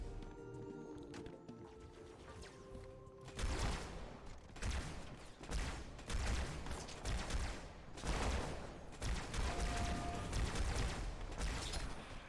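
Gunfire in the Halo 2 video game, including a shotgun, a series of loud, heavy blasts and chaotic combat bursts following a quieter opening.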